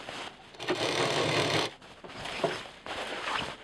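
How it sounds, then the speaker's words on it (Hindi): A sewing machine stitches backpack fabric pieces in two loud, close bursts of rapid mechanical whirring, with a short pause between them and no talking. "पहले हम एक सिलाई चला लेंगे"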